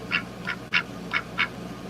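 A pet duck quacks five times in a steady, evenly spaced series, each quack short and nasal, moderately close against a soft indoor background hum.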